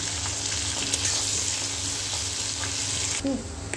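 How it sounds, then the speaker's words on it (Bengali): Onion with garam masala powder fries in a pan with a continuous close sizzle, punctuated by light stirring clicks. "আমার পেঁয়াজটা দেখুন হালকা ভাজা হয়ে গেছে"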